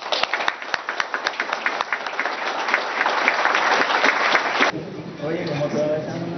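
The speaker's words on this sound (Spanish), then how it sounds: "Para ello quiero un aplauso de reconocimiento." An audience gives applause of recognition at a Spanish-language book event, starting as scattered claps and swelling into dense, loud clapping before it cuts to quieter crowd sound with a voice.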